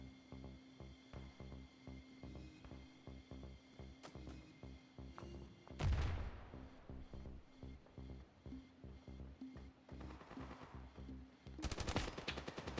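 Rapid automatic gunfire from the mobile shooter Standoff 2, dense repeated bursts at close range with a louder blast near the middle and a heavy volley at the end, no voices over it.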